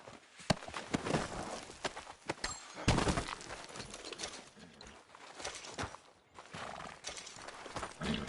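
Horse in the Red Dead Redemption 2 video game whinnying and clip-clopping along, with hoofbeats and brief neighs close by and steady throughout, over game ambience and no talking.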